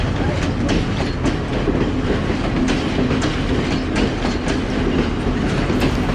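A brown Sri Lankan train runs on its rails with a steady, loud rumble and recurring clickety-clack wheel beats throughout, heard close from onboard with no talking.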